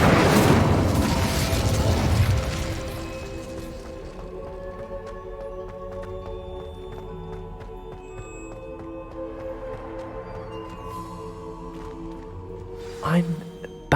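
Incendio fire spell cast in Hogwarts Legacy: a loud, rumbling fiery burst at the start that fades over a couple of seconds into a quiet game soundscape, with a brief second whoosh near the end.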